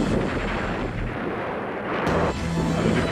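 Artillery from a departing fleet shelling a city, heavy booms and rumbling blasts rolling one after another, loud and reverberant, with no talk.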